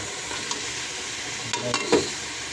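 Chicken sautéing in hot oil in a pot for tinola, with a steady soft sizzle and a few stirring scrapes near the end, no talking.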